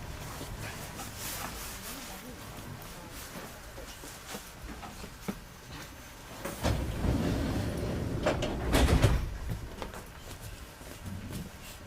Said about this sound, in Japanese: The doors on the right side will open.